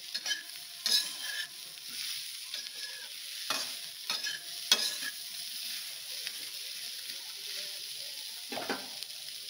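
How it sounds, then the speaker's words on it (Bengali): Spiced cauliflower samosa filling stirred in a pan with a spatula, with steady sizzling frying underneath and several sharp scraping strokes against the metal, close up with no talk. "এবার একটু নেড়ে জল ঢেলে দেওয়া হবে 1 কাপের মতো"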